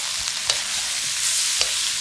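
Green spring onion tops hit a hot wok of hot and numbing chicken splashed with Shaoxing wine, sizzling steadily while a spatula stirs with a couple of sharp scrapes.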